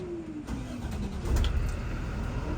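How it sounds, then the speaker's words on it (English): A Thomas school bus diesel engine starts with a short starter whine, then catches and settles into a steady, rumbling idle, heard close up with no talk. "so it's safe to start the bus"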